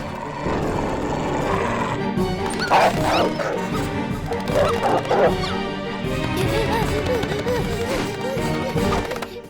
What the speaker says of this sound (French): C'est ton chien qu'on entend aboyer comme ça?